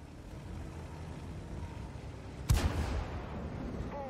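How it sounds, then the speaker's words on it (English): In the tank game Steel Hunter, a tank shell strikes its target with a sudden heavy boom and rumbling aftermath, cutting through a steady engine drone midway through. "The shell found its target."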